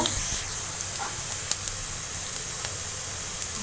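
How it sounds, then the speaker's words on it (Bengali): Cumin seeds sizzling in hot oil give a steady, fairly quiet hiss with scattered small crackles and pops, close by, without speech. "এখন আমি জিরে দিব"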